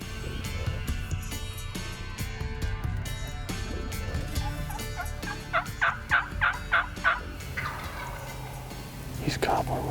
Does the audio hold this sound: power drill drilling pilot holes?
no